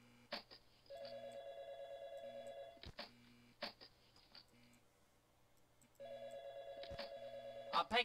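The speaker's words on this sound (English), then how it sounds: "I'll pick up a phone." In Five Nights at Freddy's, a telephone rings in two electronic trilling bursts separated by a pause, with clicks and quiet ambient hum in between.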